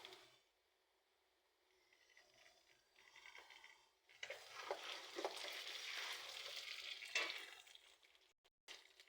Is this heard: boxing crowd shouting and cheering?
no